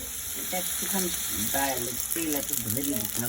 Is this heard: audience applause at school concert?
no